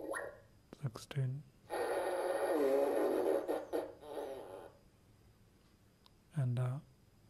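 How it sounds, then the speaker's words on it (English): A Mattel Gas Out toy lets loose a run of farting noises: a few short puffs, then a long sputtering blast lasting a few seconds, and a final short burst after a pause, all loud and close. "And it farts differently each time."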